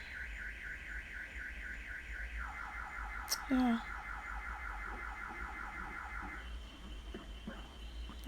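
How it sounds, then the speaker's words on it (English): A car alarm sounds during an online prayer meeting, cycling through a wailing siren and then rapid repeating warble tones at steady volume, with brief bursts of speech and other noise partway through. "alarm gone off."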